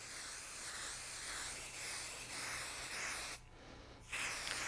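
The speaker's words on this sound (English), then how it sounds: "the next thing is to spray the top of the batting" Spray adhesive hisses steadily onto quilt batting in a continuous broadband spray that pauses briefly near the end and then resumes, close and alone with no voices.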